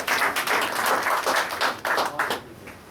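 An audience at an eighth anniversary celebration gathering in Indonesia applauds. Dense, steady clapping from many hands fills the space at moderate loudness and continues without a break for a few seconds.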